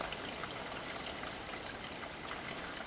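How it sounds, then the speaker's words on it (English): Stream water flows and trickles steadily as a LifeSaver filter bottle is dipped in to fill, a soft even rush with no talking. "into the stream and that will fill up with water"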